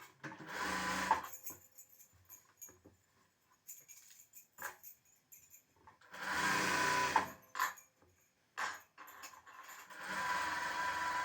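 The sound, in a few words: sewing machine stitching an extra piece onto a blouse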